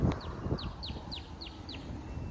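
Florida chickens make a short run of soft, evenly spaced chirping calls over a busy low background, moderately close, with no talk.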